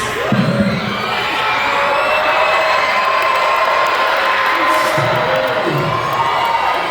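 A school gym crowd at a Dig Pink pep rally cheers and whoops loudly and continuously, young voices shouting together in a sustained roar that swells briefly near the start and again toward the end.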